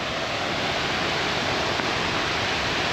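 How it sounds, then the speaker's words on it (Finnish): Waterfalls near the Svartisen glacier in Norway pour in a dense, steady roar of rushing water, loud and unbroken throughout with no voices. "Täällä on näitä vesiputouksia kyllä."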